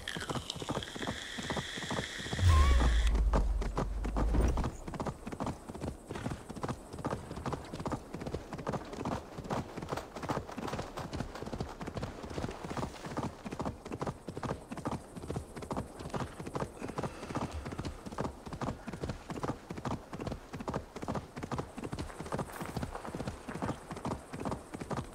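Steady, rhythmic clip-clop of horse hooves while riding in the video game Assassin's Creed Valhalla, continuous and moderately loud, with a brief louder low thump near the start.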